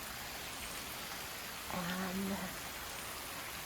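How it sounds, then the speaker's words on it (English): Heavy rain pours outdoors as a steady, dense hiss of drops, nearby and constant throughout, with a voice briefly speaking and a faint tone rising over it in the middle. "it is pouring out there. We are being drenched with life-giving rain."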